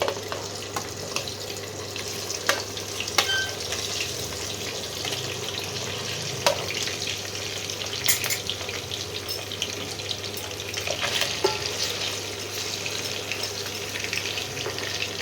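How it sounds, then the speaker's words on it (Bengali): Boiled lamb pieces sizzle steadily in hot oil in a pan, a continuous close crackling fry with occasional sharper pops and faint utensil clicks throughout. "এবারে আস্তে আস্তে আমি মাংসগুলোকে দিয়ে দিচ্ছি।"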